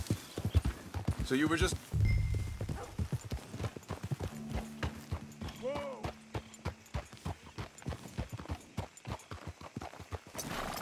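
Horse hooves clop in a brisk, steady rhythm while riding in Red Dead Redemption 2, continuous and fairly close, with a horse whinny and people talking over the gait.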